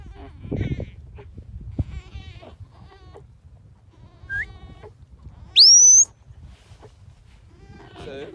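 Sheep bleat repeatedly at a distance across an open field during sheepdog training with a brace of dogs, with one sharp high whistle cutting through the middle.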